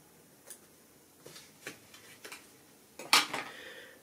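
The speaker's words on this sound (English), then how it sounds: "So go ahead and snip a little bit off of there." Scissors snipping hare's ear fur for fly-tying dubbing: a handful of soft, quick snips spaced out, then a sharper, brighter metallic snip near the end, all close and quiet with no talk.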